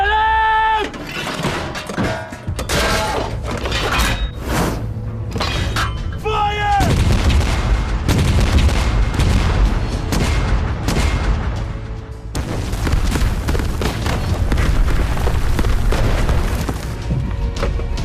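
Massed artillery barrage from three hundred guns firing at once on a Korean War mountaintop held by US troops at Unsan, a war-drama battle scene: loud, dense booms and crashing blasts rolling almost continuously, layered with tonal score-like sound.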